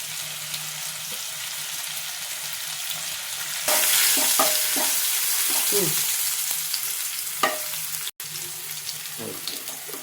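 Food frying in a pan at home, a steady sizzle running the whole way with occasional scraping and stirring clatter, close by and fairly loud, a few faint voices in the background.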